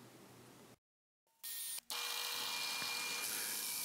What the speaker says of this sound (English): we got a mark here to start our drilling